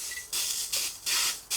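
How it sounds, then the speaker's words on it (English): Hot metal on a Jeep XJ sizzles and hisses while being heated with a torch during brake and steering work, loud bursts of bright hiss in uneven pulses close by, with no talking. "The sizzling."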